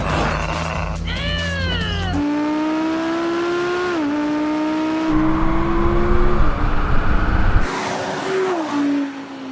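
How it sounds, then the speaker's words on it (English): A rear-wheel-drive Audi V10 car launches hard and accelerates, its engine note rising sharply through the gears with brief dips at each shift and a roaring, whining tone held close and loud throughout. "This launches pretty well for a rear-wheel drive car"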